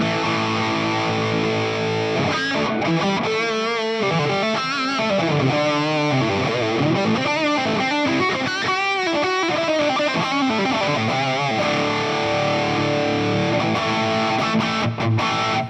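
An electric guitar is played with heavy distortion through a Fractal effects unit, its notes held into long, singing feedback. It plays steady and loud for the whole stretch, with no talking.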